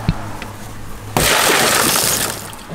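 A car's side window glass, removed during a fire-service technical rescue, is smashed: a sudden loud crash followed by a sustained spray of shattering, tinkling fragments for about a second and a half, with no talk.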